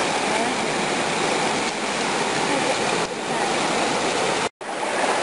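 Creek water rushing steadily beside a hiking trail on the Central Trail, a loud, continuous broadband wash close by, with one brief dropout near the end.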